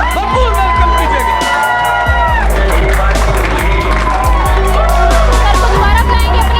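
A celebration crowd applauds and cheers as Dr. Syed Ahmed Ali Shah is welcomed onstage, a dense, loud and steady wash of clapping and cheering mixed with music throughout.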